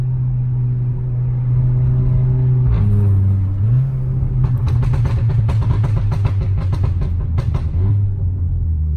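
A loud car engine rumbles steadily, then revs up sharply with crackling bursts before settling back to a throaty idle.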